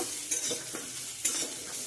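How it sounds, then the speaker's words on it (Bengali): Cauliflower florets fry in a pan with a soft, steady sizzle, broken by two brief scraping stirs, close and moderately quiet with no talking. "তো চলো এখন কপিটা ভাজ ফুলকপি ভাজা খেতে কিন্তু আমার ভীষণ ভালো লাগে"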